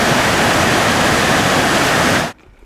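A waterfall in the Subpolar Urals roars as a loud, dense, continuous rush of water, close and unbroken, cutting off abruptly near the end.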